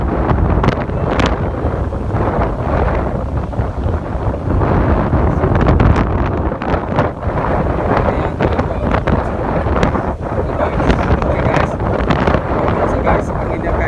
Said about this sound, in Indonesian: Guys, anginnya guys.